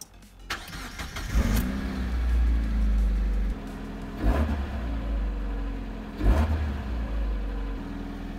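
A Mazda MX-5 NB sports car engine cranks and fires up after an oil change, then settles into a steady idle with a few revving blips, close and fairly loud.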